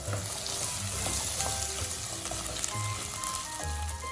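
Potato cubes frying in a pan as they are stirred, a steady close sizzle with soft scraping of the spoon through the mix.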